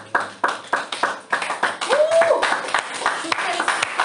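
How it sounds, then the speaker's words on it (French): A church congregation clapping in uneven bursts, a scattered rhythmic patter of hands in a reverberant hall, with a voice speaking over part of it. "Est-ce qu'on peut applaudir le Saint-Esprit?"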